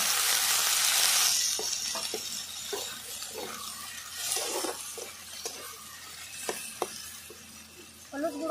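Onion and green chilli fry in fish oil in a pan, a soft sizzle under a series of light scraping and tapping strokes from a spatula, close and moderately quiet.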